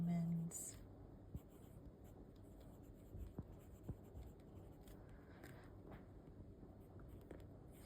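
A medium-nib fountain pen scratching faintly across paper in short strokes, soft and close, with quiet talking alongside.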